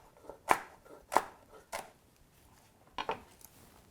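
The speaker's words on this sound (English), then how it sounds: "Okay, so I'll cut the rest of these stems." A knife chops through broccoli stems on a cutting board in a few sharp, separate strikes spaced irregularly, close and fairly quiet with no talk.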